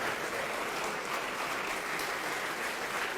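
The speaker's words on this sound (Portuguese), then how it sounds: "E vamos aplaudir ao Senhor por cada vida que está chegando." A church congregation applauds steadily at a sermon, a dense, even wash of many hands clapping together. It holds at a constant moderate level throughout, with no break and no voices rising above it.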